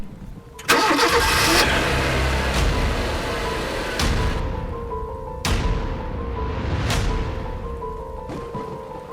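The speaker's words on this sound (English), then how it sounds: "got into the car. It started right up." A car engine cranks and catches near a gravel lot, firing up loudly and settling into a steady idle, with a few sharp tonal pings ringing out over it.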